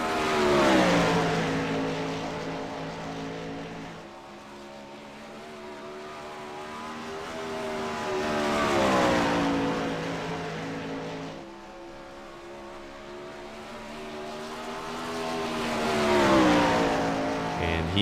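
A 410 winged sprint car on a flying lap at Knoxville screams past with a high engine wail that rises and falls in three swells as it circles the dirt oval, fading between passes.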